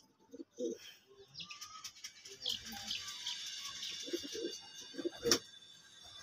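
Racer pigeons coo softly at close range, with scattered low coos and light chirps over a quiet background of faint rustling and clicks.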